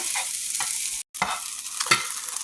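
Food being stirred in a hot pan on a stovetop, with steady sizzling broken by several distinct scraping strokes of a utensil, close and clear.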